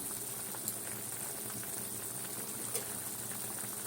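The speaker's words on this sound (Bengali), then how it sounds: "এখন ফুটবে" Water boiling in a pan for a puti fish curry, a dense steady bubbling hiss with faint pattering, even and continuous throughout, close and fairly quiet with no talking.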